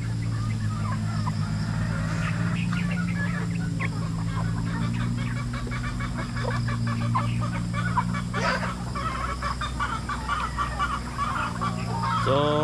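A flock of free-range chickens on a farm clucks and squawks continuously over a steady low mechanical hum, with occasional louder calls standing out.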